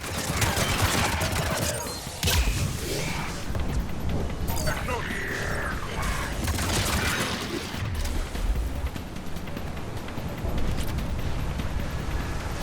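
Dense, continuous weapons fire and impacts rattle through a Mass Effect 3 combat scene, loud and sustained, with voices talking over the shooting.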